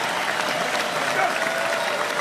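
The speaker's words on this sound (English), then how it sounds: "a big round of applause for the circus" A studio audience applauds a sports talk show called the Sports Circus on its two-year anniversary: a steady, dense wash of clapping at even loudness that carries through the whole moment without a break.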